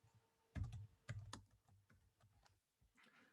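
Quiet computer keyboard typing as text is entered, a few sharp clustered keystrokes followed by lighter, sparser taps, with no talking.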